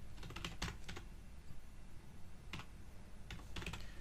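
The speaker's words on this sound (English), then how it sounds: "So let's type" Quick clusters of computer keyboard keystrokes come in short bursts with brief pauses between them, close and fairly quiet in a calm room, as Python code is entered for a GeoPandas geoprocessing task.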